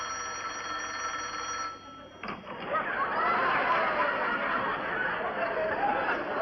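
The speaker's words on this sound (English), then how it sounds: "Miss Fuller, quickly now, ring Mr. Albright's phone." A telephone bell rings continuously in an office scene from a classic sitcom, bright and steady, with a brief break near the middle and faint background chatter and laughter.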